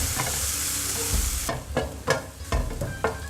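Raisins fry in a pan for carrot halwa, with a loud sizzle that drops away partway through, followed by rhythmic stirring scrapes and clicks of a spoon against the pan.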